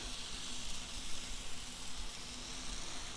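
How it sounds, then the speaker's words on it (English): A soft, steady sizzle of thin chicken pieces frying on a hot griddle, a constant quiet hiss with no talking. "You hear that sizzle?"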